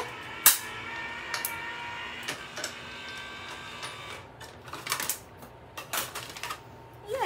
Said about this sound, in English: let's put this in the machine and cut it